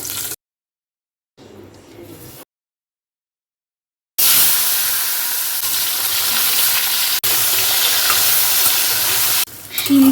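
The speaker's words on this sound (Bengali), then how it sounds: "একদম হালকা ফ্রাই হবে আমি আরেকটু তেল দিয়ে দেবো" Flat beans fry lightly in oil in a pan for a bean paturi dish, a loud, continuous sizzle that follows a few short bursts of quieter kitchen noise and gaps.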